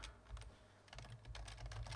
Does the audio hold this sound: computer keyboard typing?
yes